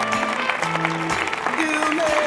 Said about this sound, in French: Merci d'applaudir Jasmine Paolini